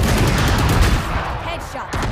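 Rapid gunfire from the Valorant video game, a loud dense burst of shots filling the whole moment, with faint voices mixed underneath.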